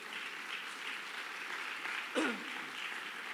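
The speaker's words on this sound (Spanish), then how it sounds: "¿Cuántos lo creen y dan un fuerte aplauso al Señor?" A church congregation applauding the Lord during a sermon, a soft, even wash of many hands clapping heard from a distance, with a brief voice sound breaking through near the middle.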